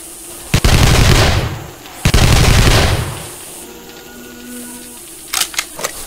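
Two loud sustained bursts of automatic gunfire in the survival video game 7 Days To Die, each lasting about a second, followed by a few faint short pops toward the end.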